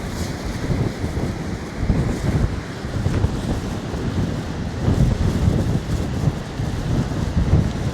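Strong wind buffets the microphone by the sea on a wet, drizzly day, a continuous loud rumbling roar with gusty swells and no voices.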